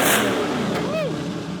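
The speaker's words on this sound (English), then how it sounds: "The engine is super healthy. The engine fans should be kicking in soon. God, it is really cleaned up, guys. It is just running perfect. No more misfire." An LS-swapped Lamborghini V8 running cleanly after a misfire repair gives a brief rev, its pitch sweeping up and back down, loud and close.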